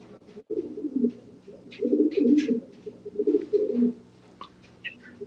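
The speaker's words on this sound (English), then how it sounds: "Yeah, that's Euro pigeon." A Euro 1200 racing pigeon coos close by, giving several soft, throaty rolling coos in a row with brief pauses between them, alongside faint chirps in the background.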